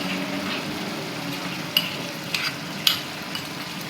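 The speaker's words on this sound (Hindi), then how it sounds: "चिकन को ऐड कर देंगे और चिकन को अच्छे तरीके से हम इसमें फ्राई करेंगे" Chicken fries with ginger garlic paste in a karahi, a constant close sizzle broken by a few sharp clinks and scrapes of stirring, with no talking.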